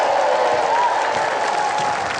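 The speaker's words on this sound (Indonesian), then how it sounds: "Tepuk tangan buat Vicky Su." Studio audience at a TV comedy show applauding a guest, a steady, even wash of clapping and crowd noise with voices faintly mixed in.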